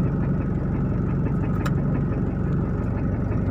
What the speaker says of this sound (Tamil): இப்போ பாருங்கள் இன்ஜினே எப்படி ஒதுருது பாருங்கள்.